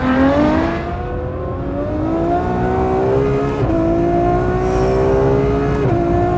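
A Ferrari F12 with a 6.3-litre, 740-horsepower V12 screams under hard acceleration, its pitch climbing steadily through gears with brief dips at each shift, loud and close, with no voices.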